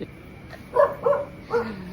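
A dog barks three times at a middle distance, short yelping barks spaced about a second apart against a quiet night background.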